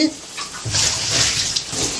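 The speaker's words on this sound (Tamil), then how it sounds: "அந்த தண்ணி கொஞ்சமாக போட்டு தண்ணி சேர்த்துருக்கேன்" Water splashes into a pan with a ginger-garlic paste while lunch cooks, a bright hissing pour that starts after a brief pause and runs on with a low background hum.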